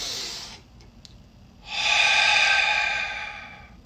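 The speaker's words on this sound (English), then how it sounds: "take a deep breath through your nose" One long, deep inhale through the nose, close and loud, swelling over about two seconds after a short earlier breath and a few faint clicks.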